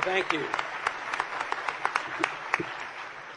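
An audience applauds Congressman Ron Paul as he is welcomed onstage, with scattered, fairly close hand claps that thin out over a few seconds.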